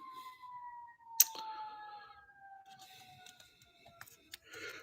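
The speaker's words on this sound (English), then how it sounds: "We got sirens in the background." A siren wails faintly in the distance, its tone slowly sliding downward, with a sharp click and a few small knocks nearby.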